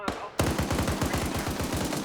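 Rapid machine-gun fire rattles in a steady automatic burst during a military video game session in Arma 3 Zeus, loud and evenly spaced after a short opening shot.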